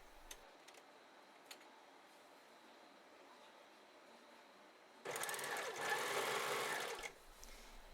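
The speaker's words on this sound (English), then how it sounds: "I'm going to turn the overlocker around in a minute so that you can see the line that I'm using when I'm doing the rolled hem" An overlocker stitches a rolled hem along a fabric edge, starting with a burst of fast, buzzing mechanical whirring about two seconds long after a quiet stretch with a couple of faint ticks, then stopping; heard close and clear with no talking.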